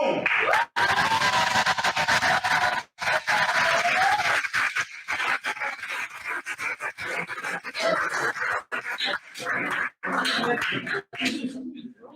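Loud, sustained audience clapping and cheering fill a graduation ceremony for specialised educators and certificate holders, dense and continuous with brief dips, swelling and fading in waves.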